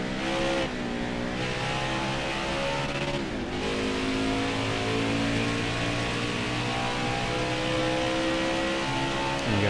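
A NASCAR race truck in the NASCAR Heat 5 video game at Road America howls at a steady high pitch, with gear shifts briefly dropping the tone before it climbs again, continuous and close.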